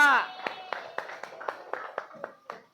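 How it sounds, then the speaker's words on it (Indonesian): Scattered hand claps ring out in an uneven rhythm after a brief voice, a small group applauding sparsely and fading out. "Kasih tepuk tangan untuk kelompok 2"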